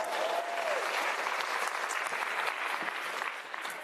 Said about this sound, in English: Let's give her a round of applause, you guys.